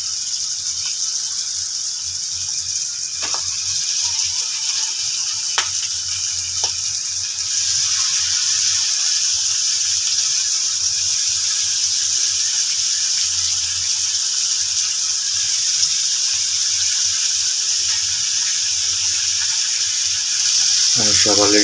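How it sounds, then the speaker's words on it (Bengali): Chopped flat beans and potatoes are poured into a pan of already-fried spices, followed by a steady, loud sizzle that carries on throughout, while someone talks quietly over it. "আমি সব অলরেডি ঢেলে দিচ্ছি।"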